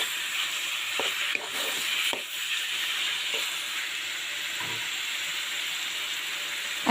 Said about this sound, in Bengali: এখন আমি এটার মধ্যে 7-8টি কাঁচামরিচ ফালি করে দিয়ে দিলাম, দিয়ে আবারও ভালো করে নাড়াচাড়া করে দিলাম।